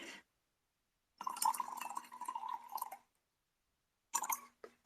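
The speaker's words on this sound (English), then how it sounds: "Just pour some coffee here." Coffee pours into a cup in two short bursts, a steady liquid stream with a rising filling tone, set apart by a brief silence.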